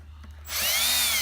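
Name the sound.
power drill removing screws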